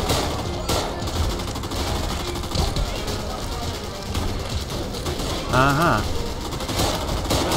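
Enemy shotgun fire in the World War II shooter game Raid WW2, a dense, continuous barrage of loud blasts with a brief murmured voice over the top.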